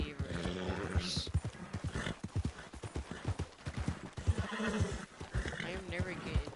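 Horse in the video game Red Dead Redemption 2 neighs and whinnies while its hooves clip-clop in a steady rhythm close by; someone talks over the animal throughout.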